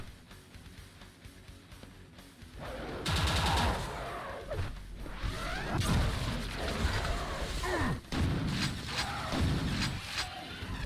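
A chain gun fires sustained rapid bursts in the retro shooter Quake II: Ground Zero. The rattling fire runs loud and nearly continuous for several seconds, broken by brief gaps and mixed with impact and explosion noises.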